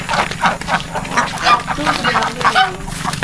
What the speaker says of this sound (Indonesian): Sedang kasih makan bebek.